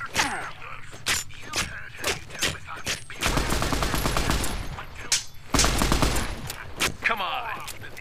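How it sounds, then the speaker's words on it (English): Bursts of gunfire in Fallout: New Vegas, sharp close shots spaced out early, then two long rattling automatic volleys, loud and punchy with echoing tails. "He's shooting me in the body, I get crippled."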